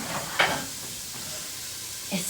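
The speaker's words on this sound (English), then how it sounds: "Going to mix my rice." Rice toasting with turmeric is stirred in a hot pan, giving a steady soft sizzle and hiss with a brief scrape of the stirring utensil.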